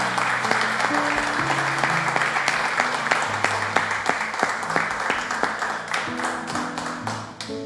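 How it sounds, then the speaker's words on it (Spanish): A church congregation claps together in steady, sustained applause, with musical tones playing underneath throughout. "Le damos un fuerte aplauso a nuestro Dios."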